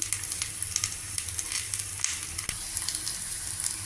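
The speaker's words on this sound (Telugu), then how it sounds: "ఈ తరిగి పెట్టుకున్న ఉసిరికాయ ముక్కలు వేసుకోవాలి. వేసుకుని కొద్దిగా మగ్గించుకోవాలి." Chopped amla (Indian gooseberry) pieces fry in a little oil with a steady, close sizzle and soft crackle, and occasional faint stirring scrapes come through the hiss.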